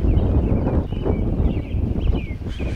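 Steady wind roars and buffets the microphone throughout on a hillside in turkey-hunting woods, a constant low rumble with faint rustling on top.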